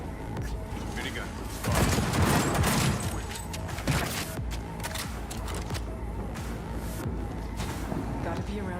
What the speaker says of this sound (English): Minigun.